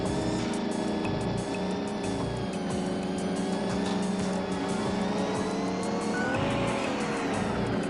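Car racing in a Davilex racing game on Windows XP: a loud, steady engine whine with rising and falling pitch, tires squealing through turns, continuous and close throughout.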